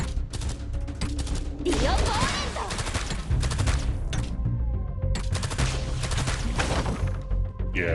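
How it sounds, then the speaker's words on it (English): Rapid bursts of machine gun fire in a video game crackle loudly and almost continuously, mixed with impacts, explosions and other game sounds, with a voice talking briefly underneath. "Machine gun."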